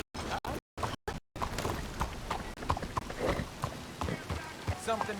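Horse hooves clip-clopping in Red Dead Online, a steady trotting rhythm of close, moderately loud hoofbeats with a few brief dropouts early on, while a person talks over them.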